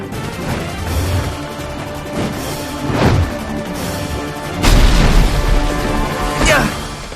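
Grenade blasts from the RWBY animated show land as several heavy booms and crashes over a few seconds, loud and punchy, with the biggest burst near the end and brief voices mixed in.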